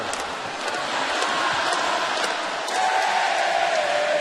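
Large basketball arena crowd at an NBA game roaring and cheering in a steady, dense wash of noise that swells slightly louder toward the end, with no clear voices standing out.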